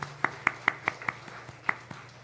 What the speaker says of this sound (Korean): 우리 아동부 아이들 박수로 한번 축복해 보겠습니다.